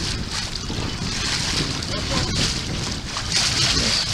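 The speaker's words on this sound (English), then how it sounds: "We have some nice wave action as the boat cuts through the water." A sailboat under way on Lake Champlain, pushing through waves with a continuous rush and slosh of water and wind buffeting the microphone, close and fairly loud.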